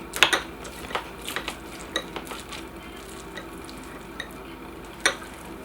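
Eggs sizzle in a pan while they are stirred, with sharp scrapes and clinks from a utensil against the cookware over a soft, steady frying hiss, close and fairly quiet.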